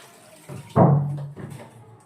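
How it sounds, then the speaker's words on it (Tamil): Water splashes into a pressure cooker in one short, close pour lasting about half a second, followed by a brief trickle and quiet. "குக்கர்ல இது எவ்வளவு தண்ணி ஊத்துறத உங்களுக்கு காட்டுறேன்."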